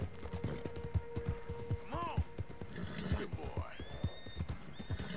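Horse whinnies and snorts from a horse in Red Dead Redemption 2, heard over steady clip-clop hoofbeats, with game music and a speaking voice running through the scene.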